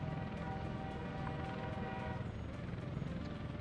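Train pulling into a station in the city-building game Workers & Resources: Soviet Republic, a steady rumbling rail drone with a faint horn-like tone, continuous and moderately loud over the whole stretch.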